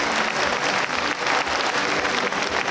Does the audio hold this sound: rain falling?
no